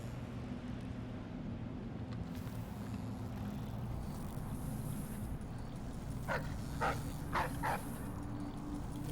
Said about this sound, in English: Getting perilously close to alerting some of these dogs in the present here.